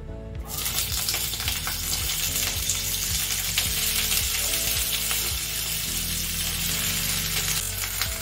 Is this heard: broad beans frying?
yes